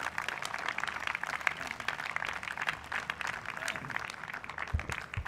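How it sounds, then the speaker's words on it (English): Audience applause fills the hall at a university convocation ceremony, a steady wash of many hands clapping at moderate distance for several seconds without letting up. "Can we please have a huge round of applause for him?"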